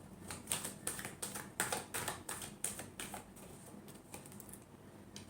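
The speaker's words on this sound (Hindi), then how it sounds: "Last shuffle." Tarot cards being shuffled for a final time, a quick run of crisp, close riffling taps in a steady rhythm that fades toward the end.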